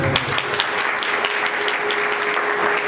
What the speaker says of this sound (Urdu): خدا ان کے جلال کے لیے زوردار تالیاں بجائیں.